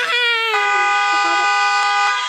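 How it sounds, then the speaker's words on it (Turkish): A loud, sustained car horn in a driving video game blares continuously and up close, a steady harmonic tone lasting the whole moment. "Niye kornaya basıyorsun evladım?"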